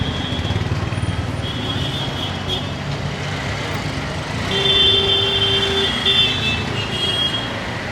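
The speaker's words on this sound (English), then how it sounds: "So traffic coming from every direction." Busy road traffic in a wealthy Indian neighbourhood, with a steady wash of engines and tyre noise and repeated car horns honking near and far, some held for a second or more.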